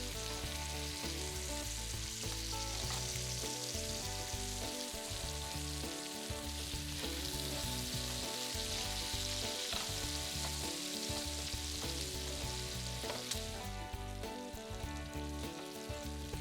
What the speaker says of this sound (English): I'm just gonna start sauteing up some onion